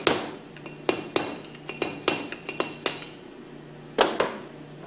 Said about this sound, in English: the seal can be tapped out from the back side gently with a screwdriver